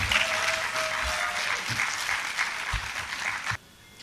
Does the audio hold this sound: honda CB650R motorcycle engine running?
no